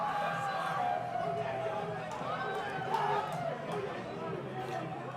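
Crowd cheering and chattering in a steady roar of voices at a gridiron football game between Qld Thunder and Rhinos, heard through a commentator's mic.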